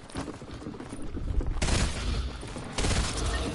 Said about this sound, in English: Dude, everyone's spamming SMGs.